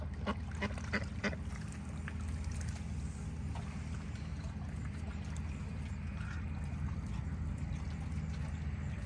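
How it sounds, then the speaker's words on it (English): Ducks come in to eat food on the water on a quiet evening, a few scattered quacks and splashy pecks early on over a soft steady background murmur. "Here come the ducks to eat it all up"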